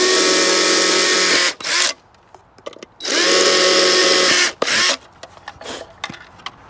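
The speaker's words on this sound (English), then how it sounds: "You're going to go ahead and re-drill these holes same way you did in the controller box, but you're going to do it for the battery box." A power drill fitted with a 9/16 bit bores holes in a solar gate controller's battery box, two loud sustained whining bursts of about one and a half seconds each, separated by quieter handling clatter.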